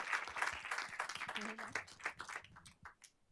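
Scattered audience clapping at a panel event on gun violence and storytelling, fairly faint and thinning out over a few seconds, with some voices murmuring underneath.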